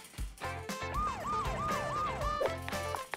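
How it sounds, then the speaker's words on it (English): A wailing ambulance siren repeats a rising and falling tone in quick cycles, loud and close, over a mix of music-like tones and engine rumble. "Ambulance is here."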